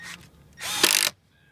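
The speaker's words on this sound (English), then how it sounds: "and screw it in" Power drill driving a screw into a rooftop deck on a pedestal deck system, a brief whirring burst of about half a second that stops abruptly, preceded by a softer motor sound.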